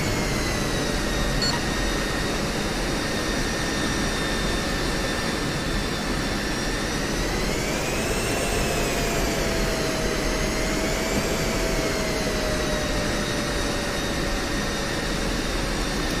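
F-16 jet engines in the DCS combat flight game, a steady loud turbine whine and roar that holds for the whole stretch with a slight pitch swell midway, no talk over it.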